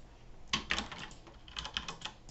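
Keys clack on a computer keyboard as text is entered, a few quick, close clicks in short irregular bursts against a quiet room, with no talking.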